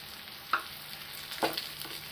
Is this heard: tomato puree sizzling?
yes